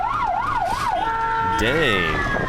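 Ambulance siren wailing as the vehicle speeds through a turn, a loud close yelp-style tone sweeping up and down, then shifting to a held note and a second rising and falling sweep, with traffic rumble beneath and a brief spoken exclamation.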